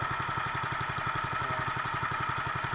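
A Honda 13 hp 390 engine of the kind used on water pumps or long-tail boats idles up close, a steady, even chugging with rapid regular thumps and no break.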